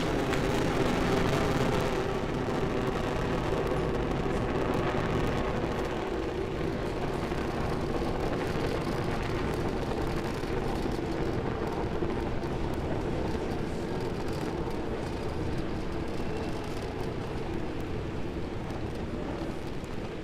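A Falcon 9 rocket climbs during the CRS-19 launch, its engines a continuous, dense, broadband roar that stays loud and steady throughout, without letting up.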